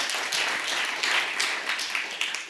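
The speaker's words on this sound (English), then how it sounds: "please give her a warm applause" Audience applause after a speaker at a conference session on early warning systems; brisk, close clapping from a modest crowd, with a few louder bursts over a brief stretch.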